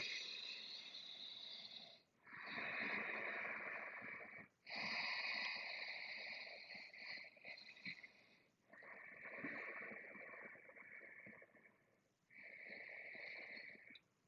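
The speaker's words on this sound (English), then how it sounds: "If you forgot about your Ujjayi breathing, return to that." Slow, audible Ujjayi breaths during a yoga session, long hissing inhales and exhales with a throaty rasp, separated by brief pauses, close and fairly quiet.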